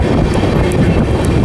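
The Amrit Bharat Express on the Brahmapur–Udhna route, between Raipur and Nagpur, rolls along the rails with a loud, heavy rumble from on board and periodic wheel clicks over rail joints.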